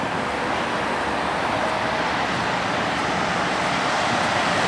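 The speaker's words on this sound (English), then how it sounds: "Car running, air conditioner on, windows open, it looks like." A car engine idles steadily with its air conditioning compressor running and the windows open, giving a constant, even broadband hum and rumble throughout with no breaks or speech.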